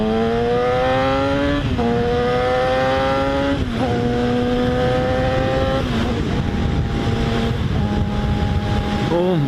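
Yamaha FZ6R motorcycle engine accelerating through several gears, each rising whine dropping at a shift then climbing again, loud and close with wind rush behind it.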